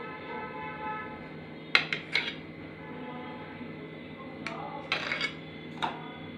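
A knife slices through a soft, spongy homemade vanilla cake, with a few sharp clinks and scrapes against a plate or pan in two short bursts over a low background hum.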